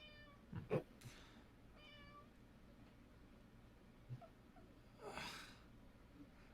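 A house cat meows several times, short harmonic cries scattered across the stretch with a longer, louder yowl near the end, fairly close against a quiet room background.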